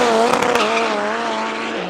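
A drag race car makes its run at Tarlton International Raceway, its engine a loud, close, sustained roar with a rising whine and brief rough bursts near the start, with no talk over it.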